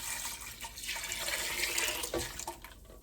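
Beef broth pouring into a cooking pot for cabbage soup, a steady splashing liquid stream close by with gurgling changes as the level rises.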